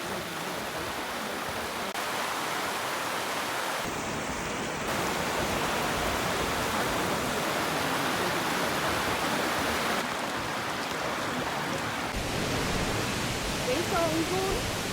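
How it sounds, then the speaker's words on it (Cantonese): Water cascading over rocks at Pearl Shoal waterfall in Jiuzhaigou, a dense, continuous broadband rush heard steadily throughout, fairly distant and even, with no speech cutting through. "聽聞呢度叫珍珠海係因為佢嗰啲水打落去啲石頭度，"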